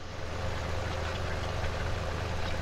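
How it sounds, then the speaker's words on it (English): Steady low engine idle of a tractor in a farming simulation game, a continuous even rumble with a faint knocking pulse, alone and fairly close throughout. "I really hate to get rid of this tractor."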